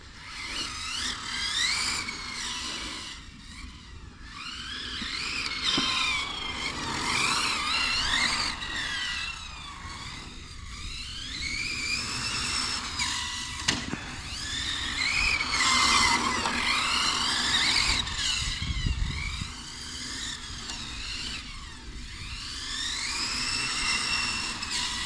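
A Hobao VTE carbon RC car races around a track, its engine whining and rising and falling through the corners with tyre skids, loud and continuous with no voices.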